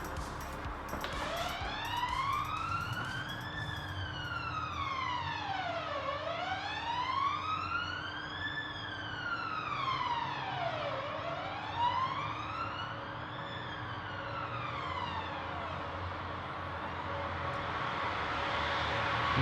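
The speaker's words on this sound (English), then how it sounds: "The ambulance listens." Ambulance siren passing along a city centre street, a loud wailing tone rising and falling in long sweeps, steady and near over continuous traffic rumble.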